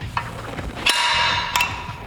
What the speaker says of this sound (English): Now using a center punch, we're just going to mark our hole center to give our drill an easier start.